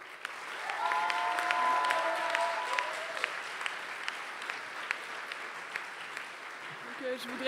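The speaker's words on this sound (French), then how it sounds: "Alors, on applaudit bien fort le major de la promotion" Audience applause at a graduation ceremony, a dense steady clapping that holds for several seconds and then gradually thins, with a sustained tone and a few voices faintly underneath.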